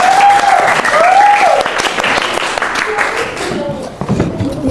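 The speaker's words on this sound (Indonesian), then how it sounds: "Tepuk tangan buat kelompok" A classroom group receives steady applause from students, loud and close, continuing for several seconds while a voice speaks over the clapping near the start.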